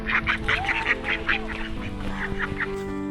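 Ducks quack in quick bursts, several nearby calls overlapping, over a steady tonal hum with no talk.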